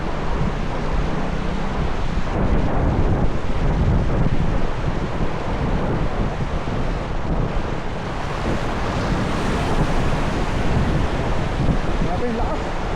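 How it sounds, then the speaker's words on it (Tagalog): Heavy rain and strong wind from Typhoon Carina roar continuously, with buffeting gusts pounding close against the microphone and swelling and easing over a dense wash of noise. "Grabe yung lakas. Lakas ang hangin."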